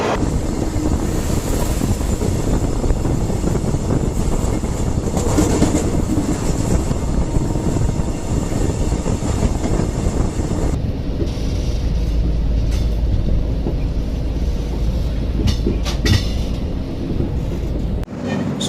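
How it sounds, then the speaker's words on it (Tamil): Garib Rath Express rolling slowly past Kazipet town, a steady rumbling rail drone with wind buffeting the microphone; halfway through the high hiss drops away, leaving a heavier low rumble and a few faint clicks. "நம்ம ட்ரெயின் வந்து பார்த்தீங்கன்னா அப்படியே பொறுமையாக ஸ்லோவாக வந்து காசிபேட் டவுன் தாண்டி போயிட்டுருக்கு"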